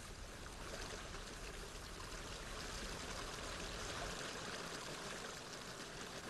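A small forest stream in the Carpathian woods flowing with a steady, even rush of water that stays constant and fairly faint throughout.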